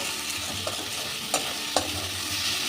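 Sliced tomato being stirred into pomfret fish masala frying in a pan: a steady close sizzle with a few sharp scrapes and knocks of the spoon against the pan, and no voices.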